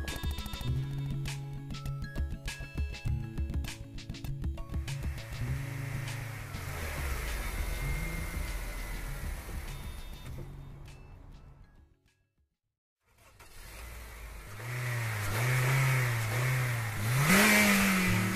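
A Mercedes Sprinter van drives on the road toward the Arctic, its engine humming and rising steadily at a moderate distance under accompanying music, dropping out briefly before the steady drive resumes.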